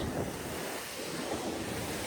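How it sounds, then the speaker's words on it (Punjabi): A mountain waterfall fed from the peaks near Hemkund Sahib rushes with a continuous, fairly distant roar of falling water, with no talk. "ਫਿਰ ਆ ਝਰਨਾ ਇਹ ਉੱਪਰੋਂ ਪਹਾੜਾਂ ਜੀ ਆਉਂਦਾ ਵਾ"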